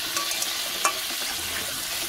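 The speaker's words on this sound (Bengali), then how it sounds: "আলুর মধ্যে অল্প একটু নুন দিয়ে দেবো আর দিয়ে দেবো অল্প একটু হলুদ গুঁড়ো দিয়ে আলুটাকে ভালোভাবে ভেজে নেব" Potato pieces seasoned with salt and turmeric sizzle in hot oil in a pan, a steady close crackle with a few soft stirring clicks.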